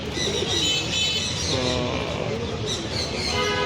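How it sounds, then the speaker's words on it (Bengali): Pigeons coo in low, repeated bursts at a busy pet market, mixed with scattered chirps and constant crowd noise, with people talking nearby. "দেখুন নর পায়রা।"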